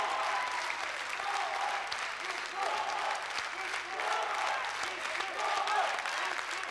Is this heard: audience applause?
yes